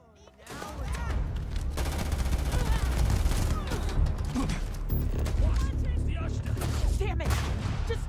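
A loud, sustained firefight from the space game Starfield: dense bursts of automatic gunfire and single shots run almost continuously, with shouting voices mixed in.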